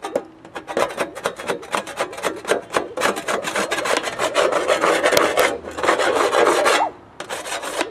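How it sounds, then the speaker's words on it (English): The cut edge of a plastic bucket is deburred by hand with quick repeated rasping strokes, a close, loud and rhythmic scraping that pauses briefly near the end before resuming. "Let's see if we can remove some of that burr."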